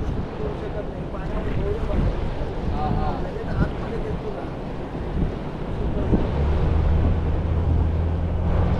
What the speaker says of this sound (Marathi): आता बघ इथे लाटा वाढल्या. समुद्रच आहे.